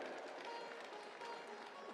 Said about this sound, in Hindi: ठोको ताली अपने लिए